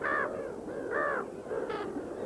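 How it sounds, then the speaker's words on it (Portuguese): Brown-headed gull giving three harsh, nasal calls in a row, each clear and fairly close, in a high-altitude, snow-covered setting above 4,000 metres, with no talking. "As gaivotas de cabeça marrom se parecem com as gaivotas de cabeça negra, mas são maiores."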